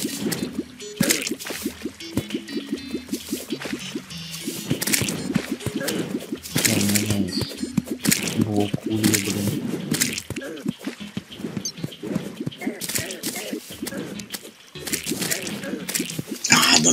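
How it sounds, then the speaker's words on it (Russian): Dripping and sloshing water in the video game Terraria, a busy stream of wet squishy drips and splashes over a steady bed, with voices talking throughout. "Почему тут так вода забаговалась?"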